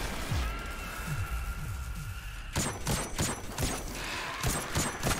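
Gunfire in the video game Destiny 2: a burst of weapon fire with whirring energy tones at first, then a run of sharp, loud, closely spaced shots in the second half.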